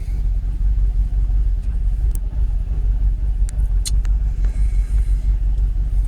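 A Jaguar XKR X100 V8 idles steadily after a battery reset, a loud continuous low rumble close to the car with a few faint clicks on top.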